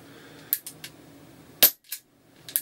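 Umarex Walther PPQ pistol fired without a silencer, a few sharp, crisp cracks spaced irregularly with quieter mechanical clicks between, in a quiet setting.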